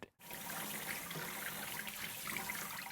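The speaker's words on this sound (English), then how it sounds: "I'm gonna give this a rinse under cold water just to get most of the oil off" Cold tap water runs steadily onto noodles in a colander, a continuous hissing splash after a brief silent start, moderately close and without speech.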